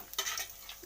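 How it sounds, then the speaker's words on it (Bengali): Whole dried red chillies and cumin seeds fry in hot oil, a brief hiss and crackle with a utensil scraping through them in a short stir. "আমি লঙ্কা আর জিরে ফোড়ন দিয়ে দিলাম। এটা একটু নাড়িয়ে ভেজে নেব।"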